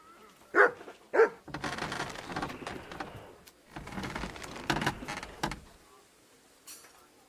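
A dog in the video game Kingdom Come Deliverance 2 gives two sharp, close barks, followed by several seconds of muffled rustling and thumping movement.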